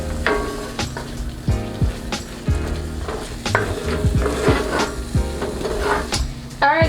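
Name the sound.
mixing rum into pine tart filling in a pot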